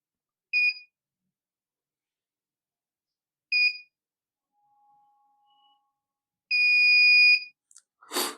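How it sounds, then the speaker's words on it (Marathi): A shop shutter safety device sounds three electronic beeps, two short and evenly spaced, then a longer sustained one, loud and close against near silence. "हा नॉच दाबला गेला की हा 3 वेळेस बीप देतो"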